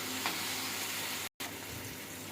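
Tomatoes and onions frying together in a pan for a dry soyabean gravy, a steady broadband sizzle running throughout with a very brief dropout partway through, no voices.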